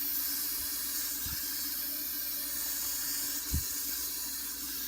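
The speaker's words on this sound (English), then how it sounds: "I'm slowly releasing the pressure." A steady, broad hiss of steam escaping from an Instant Pot's pressure release valve fills the whole stretch at an even level, close by, with a couple of faint low thumps and no talking.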